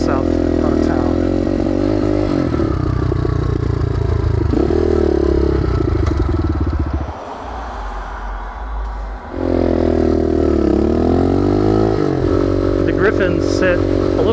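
A modded Gryffin 250 motorcycle rides out of town, its engine droning loud and close with rising and falling revs and a brief dip, as a rider talks over it.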